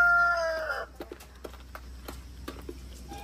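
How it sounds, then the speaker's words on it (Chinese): A crested chicken on a farm rushing in to grab food, opening with a drawn-out squawking call and then a scatter of short clucks and pecking taps at close range. "凤头小鸡也过来抢，"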